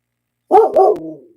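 A big, burly dog gives a single loud, close bark that trails off into a short whine, with silence before it.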